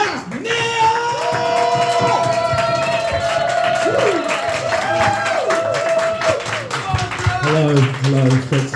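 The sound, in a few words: audience stamping feet, clapping and cheering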